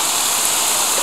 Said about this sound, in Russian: Это мельница, это водяная мельница.